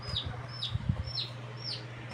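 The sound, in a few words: green-dyed chicks tweeting at a fiesta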